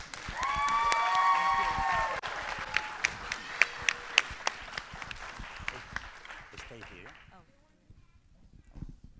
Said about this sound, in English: they definitely deserve another round of applause